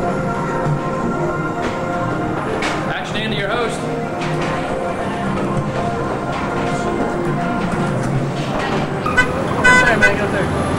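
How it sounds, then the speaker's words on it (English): Traffic jam on a New York City street with car and bus horns tooting now and then over a steady roadway rumble, fairly close, mixed with crowd and street noise and people talking. "Traffic jam."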